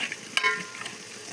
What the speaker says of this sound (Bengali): চিকেনটা আগে ভেজে নেব, এর সাথে ভালো করে চিকেনটা কষিয়ে নেব।